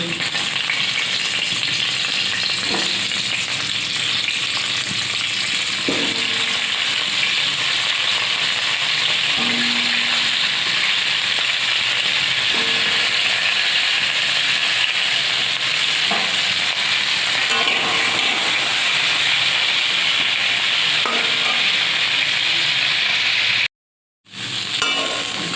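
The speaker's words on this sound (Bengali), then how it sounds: "তেলের মধ্যে আমি আগেই আমি এটা ভেজে নেবো এইগুলো সবজিগুলো" Vegetables including cauliflower frying in oil, a loud dense sizzle sustained for a long stretch with occasional stirring clatter, briefly cut to silence near the end, no talking.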